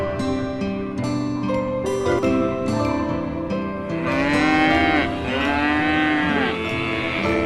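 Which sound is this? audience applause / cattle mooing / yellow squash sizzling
cattle mooing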